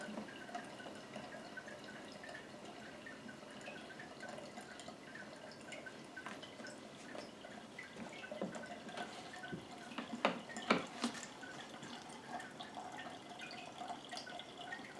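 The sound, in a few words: cold brew coffee draining and dripping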